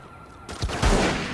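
Gunfire in the PS2 crime game Reservoir Dogs: a loud burst of shots kicks in after a quiet start and rolls on as a dense, booming volley with no talk over it.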